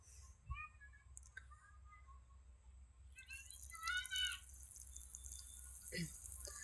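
Aloe vera leaves are rinsed under running water, a quiet trickle and splashing from a tap with a few drips, fairly faint and close.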